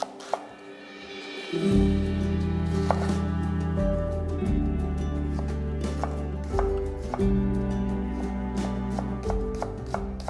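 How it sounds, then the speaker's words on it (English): A knife slices a quarter of a red onion on a cutting board, repeated sharp taps and cuts in an uneven rhythm, close and clear over a steady low hum, no voices. "A quarter of a red onion, sliced."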